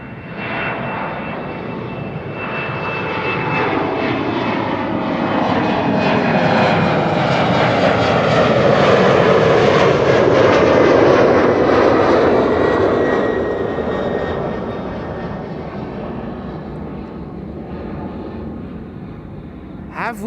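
An Airbus A330neo airliner departs Amsterdam Schiphol, a loud jet roar that builds to a broad peak at mid-clip with a sliding engine whine, then slowly fades as it climbs away.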